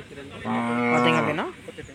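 A cow on a farm where calves and cows are sold gives one loud, sustained moo that rises and then bends upward at the end, close to the recorder, with someone speaking briefly around it.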